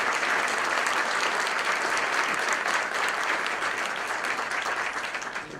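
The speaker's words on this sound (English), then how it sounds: "Please give a big round of applause to our Archbishop and the great work that he is doing." Steady, full applause from an audience at a press conference for an archbishop, a continuous wash of clapping heard from a moderate distance that tapers slightly at the end.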